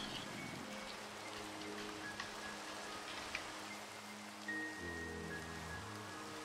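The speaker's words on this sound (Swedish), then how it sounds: "Det ser ut att regna, okej?" Soft video game rain patters steadily on surfaces at a low level, with faint sustained musical or humming tones beneath it and no speech.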